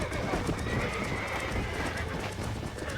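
Horse in Red Dead Redemption trotting with steady clip-clop hoofbeats and a whinny, set against continuous game ambience.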